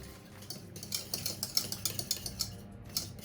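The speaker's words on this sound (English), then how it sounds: "So I've been whisking this for about 10 minutes now." Wire whisk beating custard mixture in a pan, a steady rapid run of light metallic scraping and clicking strokes close by, with no voices.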